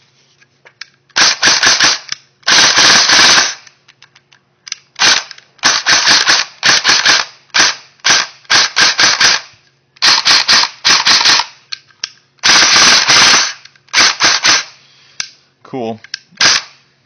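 Echo1 Troy Industries TRX13 battle rifle being cycled by hand, giving loud metallic clacks and snapping bursts in uneven groups, close up, with a brief spoken word near the end.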